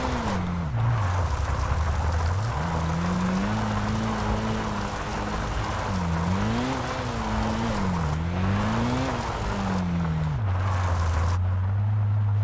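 A race car on racing tyres runs a gravel section in Kaido Racer 2, its engine droning loud and steady, rising and falling with gear changes, under a constant crunchy gravel rush.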